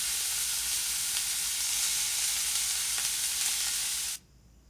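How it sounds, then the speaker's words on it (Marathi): Spices sizzling steadily in a pan over low heat for a green moong amti, a dense continuous hiss with faint stirring ticks that cuts off abruptly near the end. "हे आता चांगले परतून घ्यायचे आहे. हे मंद आचेवर करायचं आहे आपल्याला."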